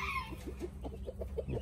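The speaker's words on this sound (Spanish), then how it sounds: "aquí anda la gallina. La Silky." Silkie hen clucking softly among her chicks, a series of short, close clucks repeating at a steady rhythm over a low background rumble.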